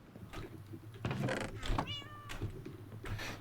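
A voice imitates a cat's meow, with a short, wavering meow rising over background noise during a Minecraft gaming session.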